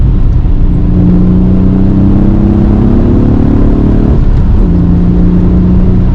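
A 1996 Alfa Romeo 155 V6 runs as a loud, steady engine drone with a strong tonal hum. Around the fourth second its pitch drops and shifts, like a brief blip of the throttle, then it settles into a steady note again.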